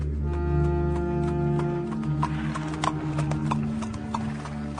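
Hoofbeats of a saddled donkey clip-clop steadily at a walk under a swelling music bed, moderately close.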